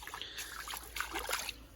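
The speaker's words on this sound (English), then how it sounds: "I'll splash over to it." Splashing footsteps wade through shallow water toward a Dacia Jogger, a steady run of sloshing, trickling splashes close by with no talk.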